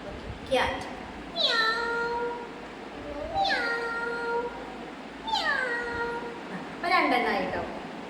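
A woman imitates a cat, giving five drawn-out meows at a steady pace, each rising then falling, fairly close and clear over a quiet room.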